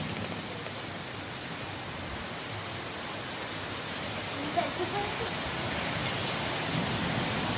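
Heavy rain pours steadily with a constant rushing hiss, wind pushing it along, growing slightly louder toward the end.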